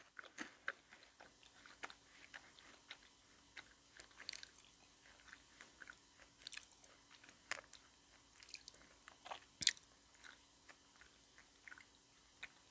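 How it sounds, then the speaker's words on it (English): Close, quiet crunching and chewing of freeze-dried yogurt balls with freeze-dried strawberry centres, irregular soft bites and mouth sounds spread across the whole stretch, with no talking. "I'm also eating yogurt balls. They got freeze-dried strawberries in the middle."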